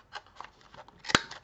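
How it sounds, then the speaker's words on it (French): Scissors snip around the corners of a small paper card, several quiet crisp cuts spread over a second and a half, ending in one sharper, louder snip near the close. "Je vais arrondir un petit peu les angles de cette petite carte là."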